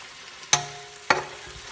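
Chinese celery stir-fried with shrimp and shellfish in a pan, two sharp clanks of a spatula against the wok over a faint, steady sizzle, with no talk.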